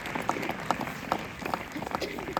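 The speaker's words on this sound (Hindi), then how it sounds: "इसके लिए जोरदार तालियां बजाइए।" A crowd applauding at a school gram sabha in Sheopur, a continuous patter of many hands clapping at a moderate distance, with a few sharper claps standing out.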